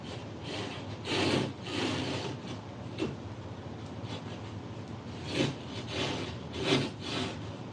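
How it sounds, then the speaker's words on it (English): A handheld drywall saw rasps through drywall in uneven strokes, some long and some short, close by and fairly quiet, with no talking. "have you seen my drywall saw yet?"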